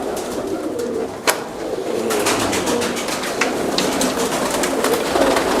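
Pakistani Tedi and Kasuri pigeons cooing in a loft, soft repeated coos from several birds layered over a steady background, with a sharp tap near the start.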